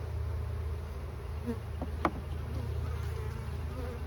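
Agitated honeybees from an overwintered nucleus colony buzz steadily and densely as they are moved into a full-size hive, a continuous low drone with a few faint knocks and no voices.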